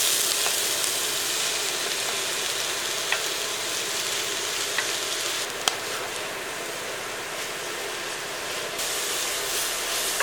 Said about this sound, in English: We're just going to cook with bacon fat.